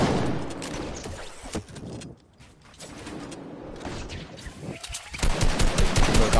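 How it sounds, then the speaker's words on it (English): Rapid gunfire bursts from the Fortnite video game during a one-on-one match, dense and continuous, with a brief lull before a louder, sustained stretch of shooting near the end. "Look at you shooting me down."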